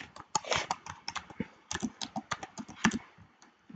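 Keys on a computer keyboard being typed in a quick, uneven run of close, crisp clicks, with brief pauses between bursts and no speech.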